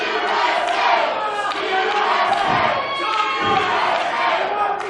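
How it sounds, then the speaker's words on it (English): Capacity crowd at an independent wrestling show chanting USA, a loud, rhythmic mass chant filling the arena, with a commentator's voice partly under the roar. "this capacity crowd getting behind Drake Braddock right now with chants of USA"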